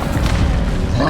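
Confringo explosive spell blast in the video game Hogwarts Legacy, a single short, loud, dense boom with a rumbling low body filling the brief moment.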